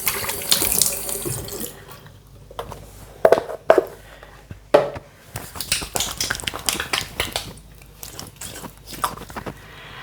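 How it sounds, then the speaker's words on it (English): Tap water runs into a bathroom sink during face washing, with a steady close stream broken by louder splashes and wet hand sounds. "So let's wash our face first."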